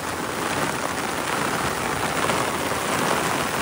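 Heavy rain pours steadily over open rice fields in a village, a dense, continuous hiss with no voices heard.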